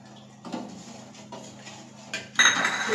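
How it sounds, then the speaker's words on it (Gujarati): A spoon scrapes and clinks against a metal pot while sugar and milk are stirred for Gujarati doodhpak, with a few soft knocks and then a louder clatter near the end, close and without talk. "એડ કરી અને આપણે બરાબર હલાવી લેશું"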